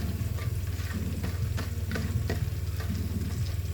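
Garlic, onion and ginger frying in oil until golden brown, a dense continuous sizzle with regular spatula scrapes and taps, close up and fairly loud with no talking.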